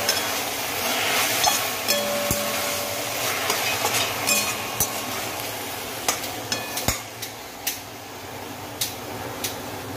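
Fenugreek leaves (methi) fry in a pan with a steady low sizzle, broken by occasional sharp clicks and taps of a stirring spoon against the metal, which grow more frequent toward the end.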